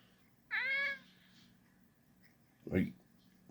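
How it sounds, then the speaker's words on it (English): A single clear meow from a cat close by, followed after a pause by a short low vocal sound. "He's been meowing around here."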